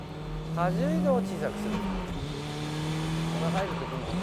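A drifting car enters a corner with its tires squealing in wavering high-pitched bursts over a steady engine drone, with someone talking over the car noise.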